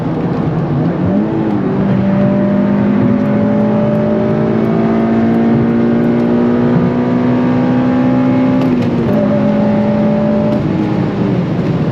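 An 8th-generation Honda Civic Si engine drones steadily, its pitch climbing gradually as it revs higher into VTEC, then dropping abruptly with a gear change before rising again.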